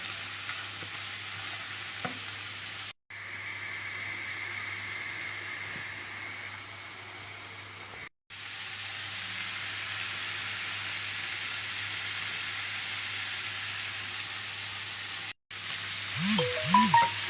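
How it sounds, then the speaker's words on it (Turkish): Red peppers and onion sauté in a pan with a steady, close sizzle and occasional stirring scrapes, broken by three brief silent cuts, with no talking. "Kapya biber ve soğanı ortalama aynı zamanda içerisine koyalım. Her ikisi aynı sürede pişiyor. Güzelce soteliyoruz."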